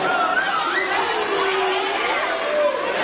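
Dense crowd roaring, cheering and shouting at an underground fight event, a continuous loud wall of voices with rising yells throughout.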